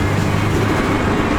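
A turbocharged Acura RSX engine drones at low RPM with a steady, loud, deep rumble, heard from inside the car. The sound stays continuous and even throughout.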